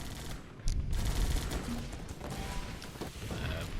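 Rapid bursts of gunfire and a dense fusillade rumble through a GU! Alliance Battles game as troops push to break through a wall, continuous and mid-loud with crashing impacts.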